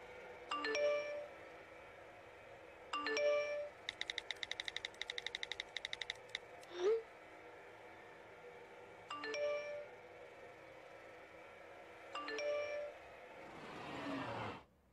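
Short two-tone mobile phone text message chimes ring out several times at spaced intervals, with a burst of rapid clicking taps in between, in an animated comedy scene at a funeral.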